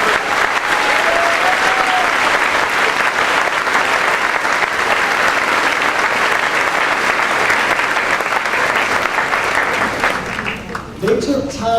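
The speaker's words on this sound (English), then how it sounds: "if you could all give them a round of applause for their energy and their effort" A large audience at a university general assembly applauds loudly and continuously, with the clapping thinning out briefly at the very end.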